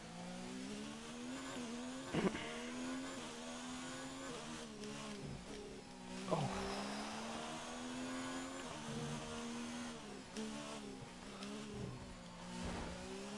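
A Formula 1 car in F1 2019 races around Monaco, its engine screaming and shifting through rising and falling revs. Scraping impacts cut in over a steady, moderately loud whine.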